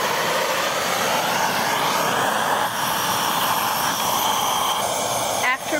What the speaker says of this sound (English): I'm going to try it out with this Burns-O-Matic TS8000 torch